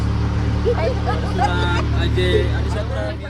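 An auto rickshaw ride in hot sunshine, its engine droning steadily throughout while a group of passengers chatter over the road noise.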